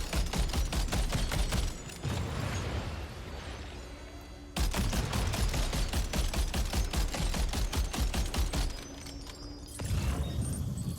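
Rapid automatic gunfire in the video game Death Stranding 2: On The Beach rattles in fast, dense bursts with a short pause between them, loud and close.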